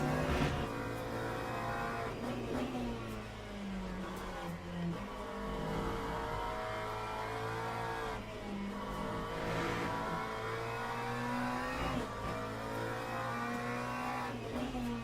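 A race car engine in the sim racing game Le Mans Ultimate drones steadily, its pitch climbing and dropping through repeated gear changes and revs, with no talking over it.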